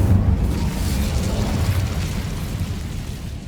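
An Incendio fire spell in Hogwarts Legacy erupts as a loud, sustained roaring whoosh of flame, a dense explosive rush that holds steady for several seconds with no voices.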